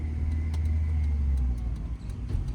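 A car's engine hums low and steady, then gains a little as the clutch is let out and the accelerator pressed during a driving lesson, with a faint rattle inside the cabin. No one speaks.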